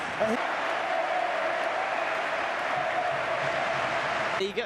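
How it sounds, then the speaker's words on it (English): A huge stadium crowd at Camp Nou gives Andres Iniesta an ovation during his last El Clasico, a dense, steady roar of applause that carries on without a break, distant and wide, with a commentator's voice under it. "Just listen to the applause and the ovation for this man."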